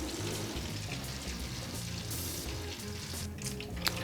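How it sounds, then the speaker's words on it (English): A continuous crackling hiss of butter sizzling in a pan, steady throughout with a faint pop near the end, no voices. "All this sizzling, that's the water evaporating off the butter."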